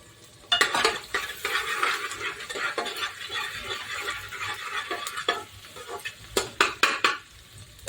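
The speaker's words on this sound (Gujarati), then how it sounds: "મસ્ત મજાની તેલમાં ડુંગળી ચડવા મળી છે" Onions fry in hot oil in a pan with a steady sizzle, while a utensil stirs and clinks against the pan in irregular, close-up scrapes and taps.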